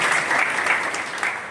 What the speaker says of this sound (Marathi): सगळ्यांनी जरा टाळ्या वाजवून